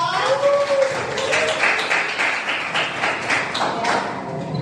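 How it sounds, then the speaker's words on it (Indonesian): A group of students clapping their hands in a classroom, a dense, continuous patter of many claps at close range lasting several seconds. "tepuk tangan dong"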